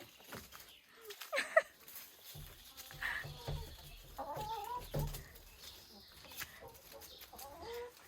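Several chickens on a farm in France cluck and squawk close by, with irregular bursts of clucking throughout and some faint rustling in the background.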